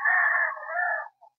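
A breeding gamefowl rooster crows once, close and clear: a single drawn-out call of about a second that fades at the end with a short tail note, heard alone.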